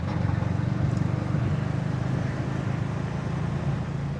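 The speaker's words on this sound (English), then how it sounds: "Oh, this is the KSRTC bus stand." Busy KSRTC bus stand in Kannur, Kerala, with a steady low rumble of idling and passing buses and road traffic filling the space at constant loudness, no clear voices standing out.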